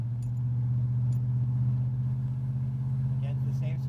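A 1984 Chevrolet Caprice engine drones steadily inside the car while accelerating between brake-burnishing stops, a low constant hum under faint background sounds.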